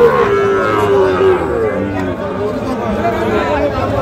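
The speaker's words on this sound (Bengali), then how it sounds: "আমবাড়ি হাটের সাইওয়াল জাতের বাছুর গরুগুলো" Sahiwal breed bull calves at the Ambari cattle market low and bellowing now and then, set against steady crowd chatter and people talking nearby.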